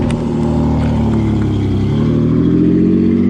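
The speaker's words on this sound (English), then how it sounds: "They have an exhaust leak." A car engine with an exhaust leak runs loud and close with a rough, sputtering exhaust note, rising slightly in pitch as it revs, steady throughout with no talking.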